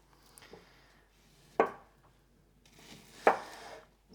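A knife cuts through onions on a board in two sharp, separate thuds about two seconds apart, with faint scraping between them and quiet surroundings.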